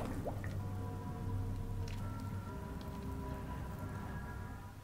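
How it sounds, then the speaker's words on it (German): Liquid dripping onto a fungus in the video game The Fall, a few soft wet drip and squish sounds over a steady low hum and sustained tonal drone, with no talk. "vielleicht kann ich es auf den Pilz drauf tropfen"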